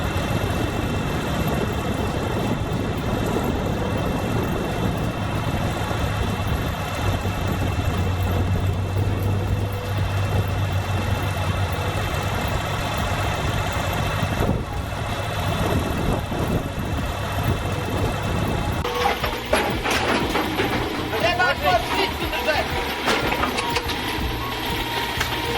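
Cat 320B excavator engine running after overheating, a steady low rumbling drone held throughout at close range, with the texture shifting to rougher clatter near the end; no talk.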